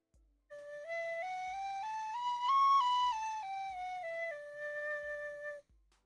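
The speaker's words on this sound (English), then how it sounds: "I want to hear the whistle, man." A bright tin whistle plays a slow, smooth melody, rising and then falling, clear and close with soft thumps underneath.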